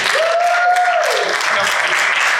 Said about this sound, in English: you guys should be cheering louder